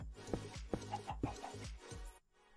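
A chicken in the video game Minecraft clucks in a quick series of four or five short, close clucks, fairly clear and alone, then falls quiet at the end.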